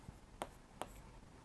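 Three quick, faint taps of chalk against a board, spaced roughly evenly, in an otherwise quiet room.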